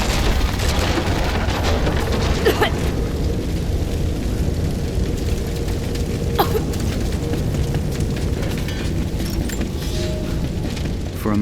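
In Rise of the Tomb Raider, an old vessel still filled with Greek fire bursts into a loud, sustained roaring rumble with a few sharper pops and cracks scattered through it, and no voices.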